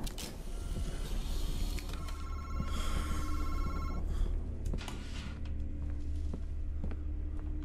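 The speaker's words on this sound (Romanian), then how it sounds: "sună telefonul" A telephone rings in a horror video game, a sustained electronic ringing with repeated trilling bursts over a low steady background hum, no voices.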